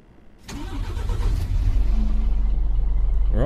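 A Scania truck engine in American Truck Simulator cranks and catches, then settles into a steady, rumbling idle.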